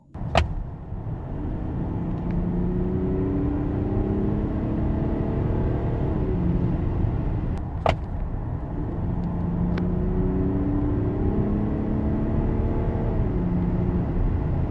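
A Mercedes GLE Coupe 400d with a 2.9-litre inline-six diesel accelerating hard in sport mode, a steady engine drone heard from inside with brief dips at gear changes and a couple of sharp clicks.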